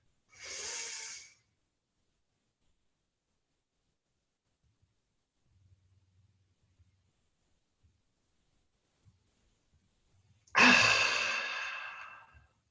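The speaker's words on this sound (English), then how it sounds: "taking a deep breath and squeezing everything tightly as you draw in the breath" Deep breathing during a guided chi exercise with clenched fists: a long audible inhale, then about nine seconds of near silence, then a louder, drawn-out exhale, both close and clear with no talking.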